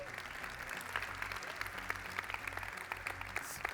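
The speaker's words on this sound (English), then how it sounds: "And another round of applause for Sven." An audience applauding on stage at a magician's talk, a sustained round of clapping from a crowd heard at a moderate distance, even and unbroken.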